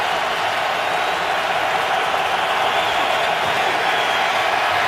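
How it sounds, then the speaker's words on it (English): NFL stadium crowd roaring as fans rise on third down at the Bears versus Patriots game in New England, a steady, loud wash of crowd noise with no distinct pauses. "Crowd gets on its feet on 3rd and 6."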